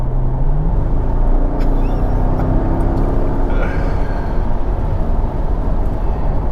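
Mercedes SL55 AMG engine roaring on a test drive, a loud continuous low rumble with a rising and falling tone and steady road noise, heard from inside the car.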